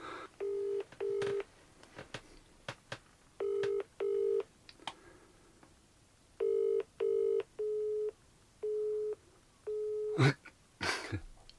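A telephone number is dialed in a quick series of clear touch-tone beeps, short paired and single tones spaced irregularly at close range, followed by a couple of sharp clicks near the end.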